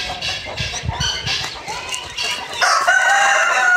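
A rooster crows loudly among clucking chickens in a backyard pet enclosure, with short clucks and calls early on and a drawn-out crow at the end.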